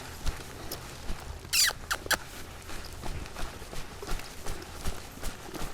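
A young horse being ridden during a colt-starting session, hooves clip-clopping in a loose, irregular rhythm on the ground at moderate distance, with a few sharper knocks and faint background noise.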